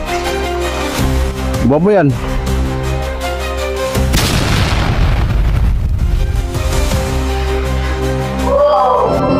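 A single loud, close gunshot boom bursts out partway through, following a tense scene, with people talking throughout and music playing underneath.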